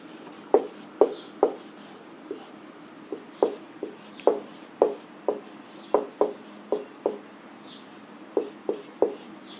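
Pen or marker strokes on a surface while working through calendar tricks, a steady series of about sixteen sharp, close taps and scratches over a quiet background.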